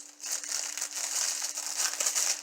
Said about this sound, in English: take the popcorn out of this little plastic bag here